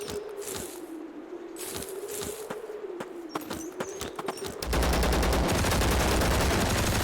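Gunfire in the survival shooter Zero Sievert: scattered sharp shots and short bursts over a droning background, building into a loud, dense, continuous barrage of rapid fire at the end.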